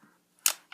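A .22 pistol slide pulled back gives one crisp, close mechanical click followed by a smaller click, both brief and isolated in near silence.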